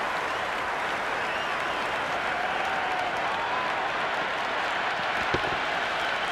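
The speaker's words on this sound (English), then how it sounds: "There's an almost tangible fervour throughout the crowd at the moment." A stadium crowd in the Cricket 26 video game applauds and cheers after a big shot, a dense, steady wash of clapping and crowd noise sustained throughout, with one brief sharper hit near the end.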